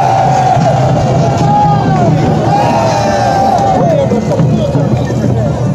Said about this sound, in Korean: 우리 두목리들이 함성을 질러보십시오.